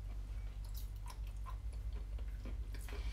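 Crunchy meringue mixed with shells chewed close to the microphone, a run of small crisp crackles and bites over a low steady hum, quiet and without talk.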